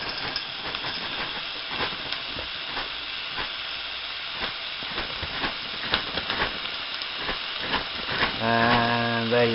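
Tesco minced beef browns in a pot, giving a steady hiss and crackling sizzle with scattered clicks of stirring, and a brief tonal hum near the end.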